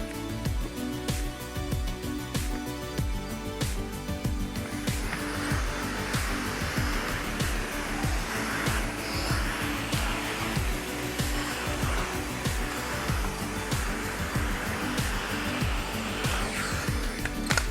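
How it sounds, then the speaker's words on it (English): A vacuum cleaner run steadily over a wood floor after buffing a floor finish, a continuous loud motor whine with a rhythmic thumping pulse throughout and a brighter hiss as the nozzle moves. "And the next step is to vacuum really nice."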